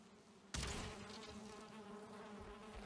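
Buzzing bees in the video game Valheim, a steady insect drone with a sudden louder swell early on, then a continuous hum under faint game music.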